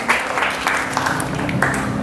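A class of children clapping together, a light, scattered patter of hands in a classroom, with a few brighter claps standing out over a soft room hum.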